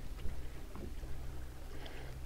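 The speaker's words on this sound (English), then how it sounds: "Doing all right with a 54-pound electric outboard." A small 54-pound electric outboard motor pushes a boat across calm water, giving a steady low hum with soft water wash throughout and no voices.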